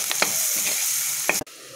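Tender jackfruit stir fry with garlic paste being mixed in a hot pan, continuous close sizzling with a few sharp scraping strokes, then an abrupt cut near the end; no voices.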